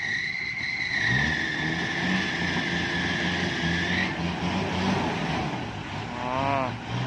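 A tow vehicle's engine revs and strains while pulling a stuck car, a steady droning roar that shifts in pitch and holds loud for the whole stretch.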